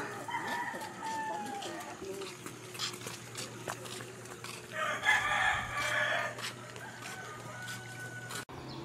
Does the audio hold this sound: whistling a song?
no